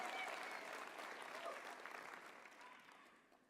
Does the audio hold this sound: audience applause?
yes